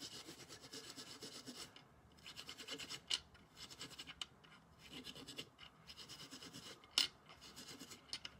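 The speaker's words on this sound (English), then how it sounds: "we just have to take the steel wool and carefully scrub off" Steel wool scrubs dried black paint off a small pendant with a steady, faint scratchy rubbing in repeated strokes and occasional sharper clicks, up close with no talking.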